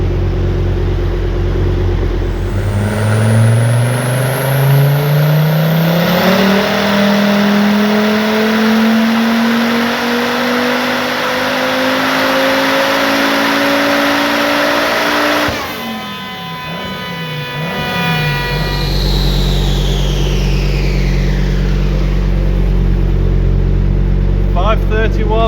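Toyota MR2 with a turbocharged five-cylinder engine revving hard on a dyno at high boost, loud rising engine tone climbing through a long pull, then a sharp drop with turbo flutter and whistle as the throttle lifts and it falls back to idle.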